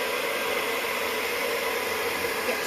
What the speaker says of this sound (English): Hair dry, on low, on cool, let's go.